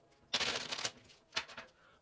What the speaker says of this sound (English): So I'm going to cut it once and then cut it again twice and then shuffle one more time